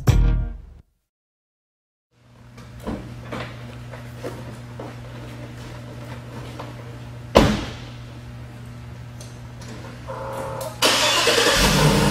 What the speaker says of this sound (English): Under the hood of this Hummer H2, you're going to find GM's 6-liter V8 engine.